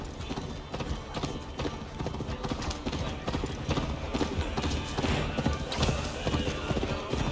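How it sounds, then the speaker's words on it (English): Galloping horse hooves in Assassin's Creed Valhalla, a fast, steady clip-clop rhythm running the whole time over a busy game soundscape with voices. "Faster, Eivor! Ride like Sleipnir's hooves!"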